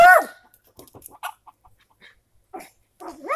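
Red Ranger broiler chickens on a farm, a loud close squawk at the start followed by scattered soft clucks and chirps, ending with another rising call.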